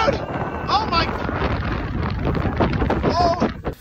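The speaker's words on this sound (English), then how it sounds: "It's so windy!" Strong wind buffets the microphone in a constant rumbling roar while shouting voices break through over it.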